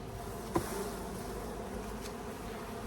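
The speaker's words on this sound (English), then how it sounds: "Oh, look at all my bees going into the other hive." Steady, dense buzzing of many honeybees close by, a continuous hum with one brief louder pass near the start.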